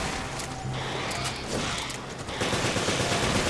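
Gunfire in Resident Evil Revelations raid mode fires as a dense, noisy stream of shots blended with game effects, fairly loud and continuous, with no voice over it.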